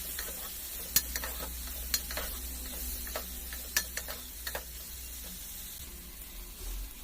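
Boiled ridge gourd pieces with turmeric and curry leaves being mixed and fried in a pan, a soft steady sizzle broken by light ticking taps and scrapes of the spoon against the pan.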